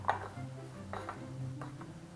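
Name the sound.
mixing a diet salmon-sushi seasoning in a bowl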